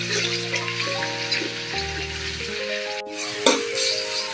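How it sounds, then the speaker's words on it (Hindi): Chopped onions go into a hot pot for Lahori chicken cholay and sizzle steadily, a dense close frying hiss with a brief clatter near the end and no voices. "जी प्याज हमारी चली गई है हमारे बर्तन के अंदर और इसको हम गोल्डन ब्राउन होने तक इसको हम पकाएंगे"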